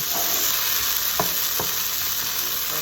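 Peas frying with softened onions in a pan for Sicilian pasta shells give off a loud, dense, continuous hiss, with two brief knocks from stirring in the middle.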